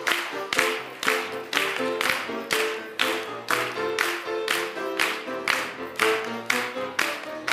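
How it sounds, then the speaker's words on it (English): An audience claps hands in a steady, rhythmic unison beat about twice a second, loud and close, at a Martin Luther King memorial event held at a college, with a musical tone ringing underneath. "Come on, clap your hands like this."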